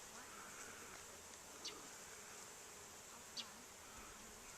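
Faint, steady buzzing of bees drifts through a quiet outdoor setting at St Marks National Wildlife Refuge, with a couple of brief clicks along the way.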